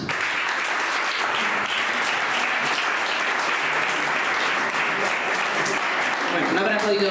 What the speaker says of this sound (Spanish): A continuación, también un fuerte aplauso para Sandra Antomás.